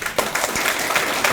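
Residents at a redevelopment briefing for an apartment complex clap together, a short burst of dense applause with a few sharper claps standing out.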